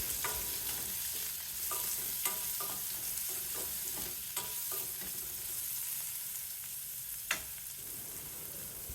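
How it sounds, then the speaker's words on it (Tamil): Sliced onions, green chillies and curry leaves sauté in hot oil, a steady sizzle broken by repeated scraping stirs of a spoon against the pan and one sharper clink near the end. "ஒரு 1/4 கப் அளவுக்கு நீளமாக வெட்டின வெங்காயம், ஒரு 4 இல்லை 5 பச்சை மிளகாய், ஒரு கொத்து கருவேப்பிலை சேர்த்து ஒரு தடவை வதக்கிட்டு"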